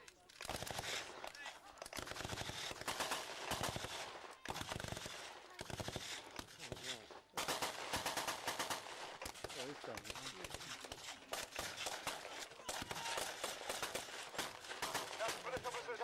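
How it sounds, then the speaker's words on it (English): German WW2 machine guns fire at a battle reenactment, long continuous bursts of rapid rattling gunfire with brief pauses, heard from a middle distance with no one talking. "Now, listen up to the machine guns. Check out the rate of fire."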